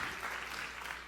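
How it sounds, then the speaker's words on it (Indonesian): Lively applause from a church congregation during a sermon, a steady dense wash of clapping filling the whole moment without any voice over it. "Tepukan yang meriah dan amin."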